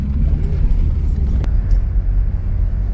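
Steady, loud low rumble of a car racing over dusty ground near Baku, Azerbaijan, the engine and road noise continuous throughout with no talk.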